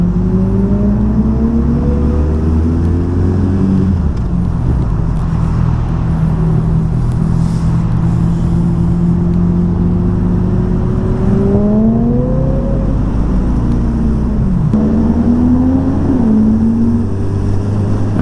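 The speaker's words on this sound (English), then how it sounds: "Bam! The bike does a wheelie." Suzuki Hayabusa motorcycle accelerating hard through the gears while pulling a wheelie, its engine loud and close with rising and falling whine under strong wind rush.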